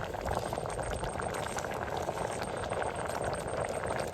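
Dal with moringa leaves bubbles in a pot as a steady, dense boiling hiss that runs evenly and fairly quietly, with no talking.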